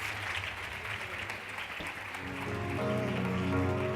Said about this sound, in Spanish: Ayúdenme a recibir con un fuerte aplauso al doctor Miguel Álvarez